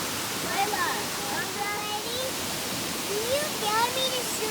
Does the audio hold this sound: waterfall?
yes